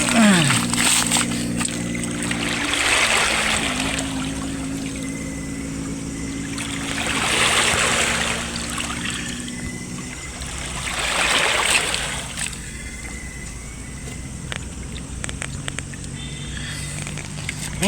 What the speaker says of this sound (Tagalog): Karagatan